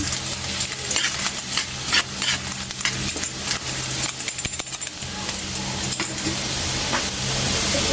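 Ginger for squid adobo frying in hot oil, a loud, dense sizzle with scattered pops and stirring scrapes running continuously, close up and without talk.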